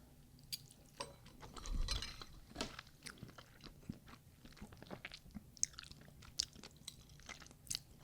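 Someone chews a glazed donut close up, with soft, moist bites and small crunches repeating at an uneven pace, and no talking.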